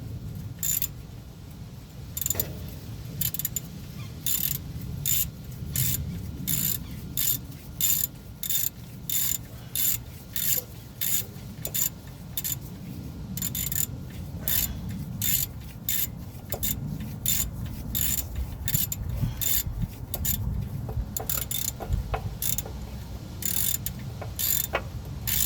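A hand ratchet tightens oil pan bolts on a 1999-2007 Chevy, giving rapid, close clicking bursts in an irregular rhythm, repeated many times with short pauses between strokes, with no talk.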